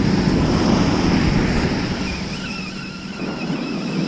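Winter sea waves break on the sandy East Sea shore of Yeongjin Beach in Gangneung, a loud, continuous roar of surf mixed with gusty wind noise and no speech.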